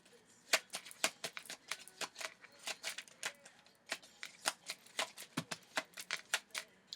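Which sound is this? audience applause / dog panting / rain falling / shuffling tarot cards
shuffling tarot cards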